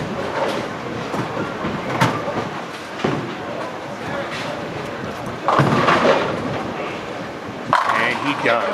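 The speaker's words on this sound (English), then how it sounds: "Josh Nineman throwing the ball" A bowling ball rumbles down the lane in a pro bowling final, a steady rolling roar that ends in a loud clatter of pins, with commentary and crowd noise over it.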